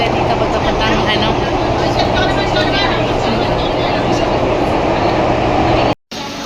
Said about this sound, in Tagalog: Ang ganda ng train nila dito